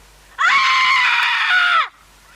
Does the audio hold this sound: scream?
yes